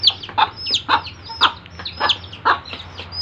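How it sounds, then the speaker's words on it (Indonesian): Bangkok red junglefowl chickens cluck repeatedly nearby, a busy run of short clucks and calls with a faint steady hum in the background. "Bangkok Red Jungle Fowl. Itu mamanya. Ini anaknya, sangat besar bodinya, mantap."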